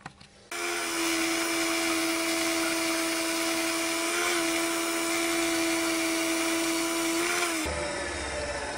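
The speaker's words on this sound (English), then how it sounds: "So I'm going to sand the bowl down before I even start doing the stem and the base." Sanding a wooden bowl spinning on a lathe through grits up to 600, a steady loud whine from the machine holding its pitch for several seconds before cutting off, no talk.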